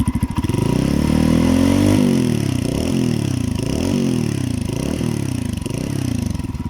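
A GR200R motorcycle engine revs repeatedly between about 4,000 and 6,000 RPM, rising and falling in pitch with a deep exhaust note muffled by a sound-damping insert, loud and close.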